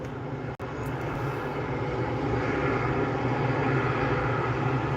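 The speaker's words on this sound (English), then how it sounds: "That Alaska 737 is sitting on the runway." Steady loud roar of an Alaska Airlines Boeing 737 sitting on the runway at SNA airport, a continuous jet engine drone heard from a distance with one brief dropout near the start.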